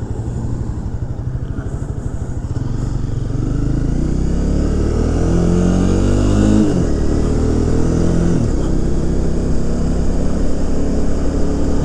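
A Honda CBR 300R motorcycle being ridden, its engine droning close and loud, revving up through rising pitch sweeps with a brief gear-change dip midway, steady and without talk.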